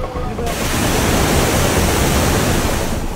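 Strong floodwater rushes at Wawa Dam in Rizal during a super typhoon, a loud, unbroken roar of broadband noise with no pauses or voices.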